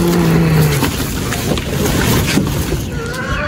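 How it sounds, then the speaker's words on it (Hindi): Strong cold wind roars and buffets steadily against the microphone outdoors, a loud continuous rush with low rumbling gusts throughout. "आज हवा बहुत ज़्यादा तेज़ चल रही है, ठंडी हवा चल रही है"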